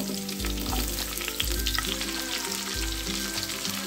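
Vegetables fry in a pan with panch phoron spices for a Bengali shukto, a constant loud sizzle with occasional stirring scrapes and crackles, and no voices.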